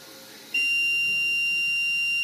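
An Ender 3 V3 3D printer sounds a single sustained, high electronic beep for a filament change, starting abruptly after a moment of low background hum and holding steady to the end.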